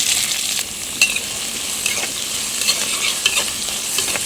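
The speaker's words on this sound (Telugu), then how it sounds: "ఇప్పుడు సన్నగా కట్ చేసుకున్న ఉలిపి ముక్కలు వేసుకుందాం" Sliced onions sizzle in hot oil with curry leaves for a bitter gourd curry, a steady bright frying hiss with a few soft stirring clicks, close and alone without any voices.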